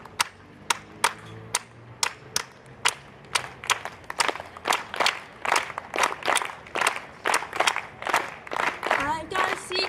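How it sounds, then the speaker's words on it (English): Rally audience claps a steady beat in unison, sharp evenly spaced claps that grow fuller and more rhythmic, with a voice singing along near the end. "the favor I'm going to ask of everyone here is to clap the beat along with me"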